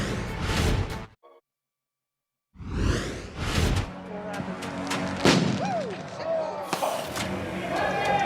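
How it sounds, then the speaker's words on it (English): A firecracker bursts at a street protest as sharp, loud bangs and whooshes cut through crowd noise, with a brief near-silent gap before a heavy blast and voices talking over the commotion. "They just threw something on fire, Chris, a firecracker. Something's on fire."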